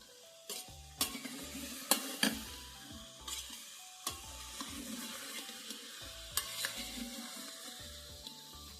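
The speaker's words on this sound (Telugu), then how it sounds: "వీటన్నింటిని ఆయిల్లో ఇలాగా ఒక వన్ మినిట్ పాటు ఫ్రై అవ్వనివ్వాలి" Mixed vegetables frying in oil for vegetable kichidi, with stirring clinks and scrapes at irregular moments over a soft, steady sizzle, all under background music.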